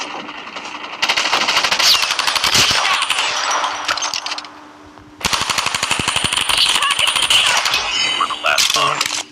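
Rapid automatic gunfire and shotgun blasts in a Call of Duty Mobile ranked match, loud dense bursts with a short lull in the middle, over game effects and occasional speech.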